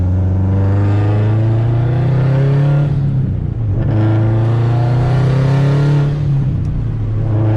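A 2004 Subaru WRX STI with an ACT clutch revs and accelerates up close, its engine note loud and steady with harmonic drone, dipping briefly twice as the revs shift.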